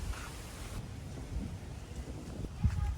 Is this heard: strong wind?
yes